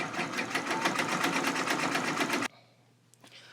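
An embroidery machine stitching small buttons, a fast, evenly pulsing mechanical chatter heard up close that cuts off abruptly, leaving a quiet hum and a couple of faint clicks.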